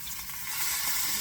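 A za'atar-rubbed butterflied chicken cooks over medium-high heat, giving off a steady, close, dense sizzle that swells slightly toward the end.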